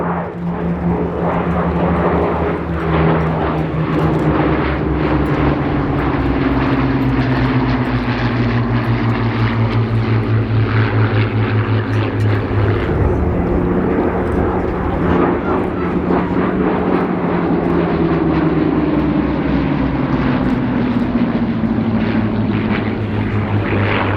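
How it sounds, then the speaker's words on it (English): Hawker Tempest warbird, a piston-engined fighter, flies past at an airshow with a loud, continuous propeller-engine drone whose pitch sweeps slowly down and up over the pass, steady and close throughout. "The Hawker Tempest came in two forms, the radial engine one and the inline."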